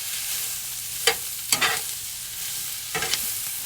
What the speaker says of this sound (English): A little bit of red pepper flake for a little bit of heat. And then we'll give this a stir.